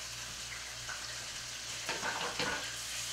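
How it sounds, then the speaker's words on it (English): Steady hiss of brisket searing in a hot pan, with a couple of brief louder crackles and stirring sounds partway through. "if your pan does not make that sizzle, you're not hot enough"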